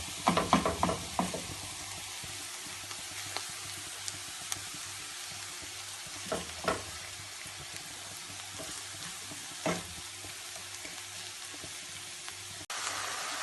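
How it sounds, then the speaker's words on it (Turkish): Minced meat frying in a pan for a leek and mince gözleme, a low steady sizzle with occasional scrapes and knocks of a utensil against the pan. "Kıymamız iyice kavruldu."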